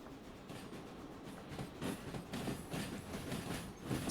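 A steam train rolls along the track with a low, steady rumble and faint rhythmic clatter of wheels, fairly quiet and swelling slightly toward the end, with no talking.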